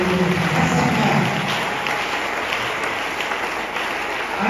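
A prayer congregation claps together, a dense steady wash of applause that stays loud throughout, with a few voices briefly audible in the first moments.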